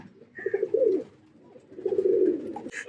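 A female Giribaz pigeon on a rooftop coos in two soft, throaty rolling phrases separated by a short pause, close and fairly quiet, with no talk.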